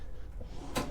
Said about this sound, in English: Drawer and a cupboard.